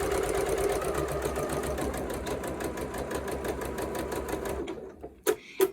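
Sewing machine stitching a curved orange peel quilt block, a fast steady mechanical whir with rapid needle ticks running close and clear, then stopping with a few short clicks and taps at the end.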